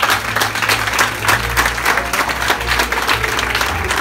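Audience applause for a DJ at a hotel event in Guadeloupe, a steady wash of clapping lasting throughout, with a low musical hum beneath and a faint voice now and then.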